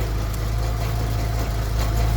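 A truck engine suspected of cracked valves idles roughly and steadily up close, a continuous low rumble with an uneven, slightly lumpy beat and no talking.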